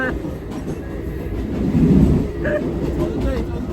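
A train rumbles steadily along with a dense, continuous roar, wheels rattling underneath, and voices faintly audible over the noise.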